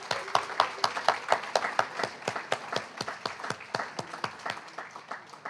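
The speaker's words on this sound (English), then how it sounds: "let's give him a big round of applause as well" Audience at a memorial poetry reading gives a round of applause, a string of sharp, distinct claps at a steady beat, strong at first and slowly thinning and softening toward the end.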